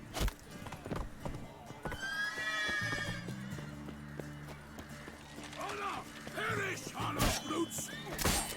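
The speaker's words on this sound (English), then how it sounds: "¿Por qué me subo a este caballo de mierda?" A horse neighs and its hooves clip-clop in The Witcher 3, with a whinny rising mid-clip over a steady low rumble and repeated hoofbeats throughout, as someone speaks over it.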